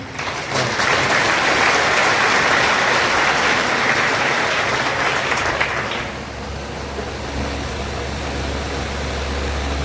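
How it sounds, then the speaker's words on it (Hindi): An audience at a Hindi spiritual discourse and guru initiation gathering claps in a loud, dense, steady wash for about six seconds, then the clapping drops away into a quieter room with a low hum. "बाहर तालियां बजाकर बताएं आवाज जा रही है"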